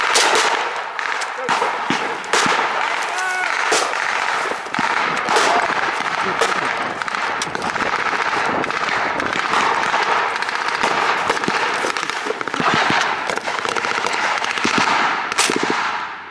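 Rapid blank gunfire at a World War II battle reenactment on a farm, with dense cracking shots and bursts throughout, some close and sharp, others more distant, while voices shout under the shooting.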